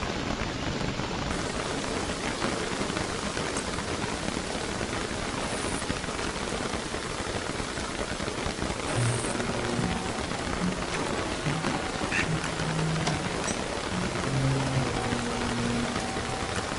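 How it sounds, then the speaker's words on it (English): Steady heavy rain falling in the video game Don't Starve, a dense continuous hiss that lasts throughout at an even loudness, with faint low in-game tones beneath and no talking. "It's raining like the proverbial cow urinating on the flat rock."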